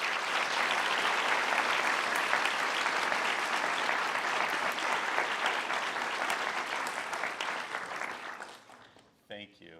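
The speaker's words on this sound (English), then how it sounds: "If we could acknowledge that with a round of applause," Applause from an audience at a white coat ceremony for a medical class, a sustained dense clapping that holds steady for about eight seconds before thinning out and fading near the end.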